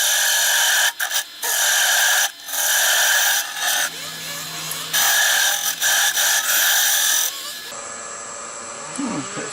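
Woodturning tool cutting down a small wooden tenon on a lathe for a scratch awl, a steady loud scraping rasp broken by several brief pauses, ending with a quieter stretch.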